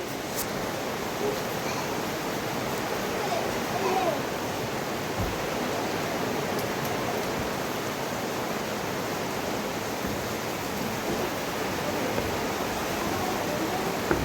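Water pours steadily over the wheel of the historic Hagood Mill, a dense, continuous rushing wash that stays fairly close and even throughout, with a faint murmur of people nearby.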